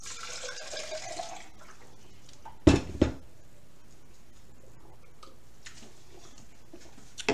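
Water is poured into a cup in a kitchen, a soft trickle followed by two sharp knocks as the cup is handled, then quiet room tone.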